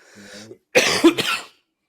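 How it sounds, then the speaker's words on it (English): A man with the flu coughs: a short throaty rasp, a brief pause, then a harsh burst of two or three close, loud coughs that stop abruptly. "I keep coughing. I'm still battling the damn flu."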